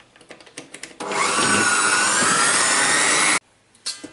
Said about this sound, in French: maintenant je vais battre à pleine vitesse jusqu'à ce que le bol soit froid